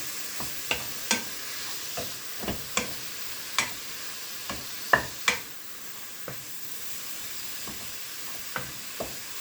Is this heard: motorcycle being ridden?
no